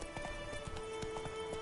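Roach the horse gallops in The Witcher 3, hooves clip-clopping in a quick, steady rhythm of repeated thuds under a constant game ambience backdrop, fairly close and moderately loud.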